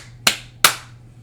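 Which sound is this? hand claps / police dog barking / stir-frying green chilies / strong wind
hand claps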